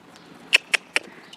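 A horse's hooves at a fast trot: three quick, sharp hoofbeats about a fifth of a second apart, moderately close and clear over a quiet background, with no talking.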